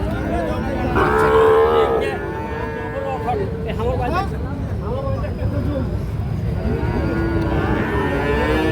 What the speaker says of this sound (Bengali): বেশ সুন্দর সাইজের শাহিওয়াল সার বাছুর এই যে দেখছেন